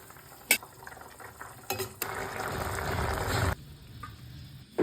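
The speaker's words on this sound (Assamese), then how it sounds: "এতিয়া মই মাছখিনি দি আছোঁ" Fish goes into a hot frying pan for a sour fish curry made with local mango: a few utensil clacks, then a close burst of sizzling that lasts over a second before cutting back to quiet kitchen sounds.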